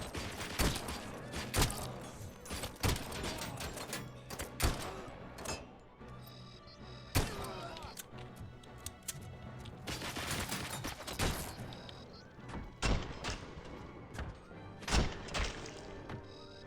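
Heavy pistol gunfire in RoboCop: Rogue City, a rapid string of sharp, punchy shots in uneven bursts with thuds and crashes between them, fairly quiet overall.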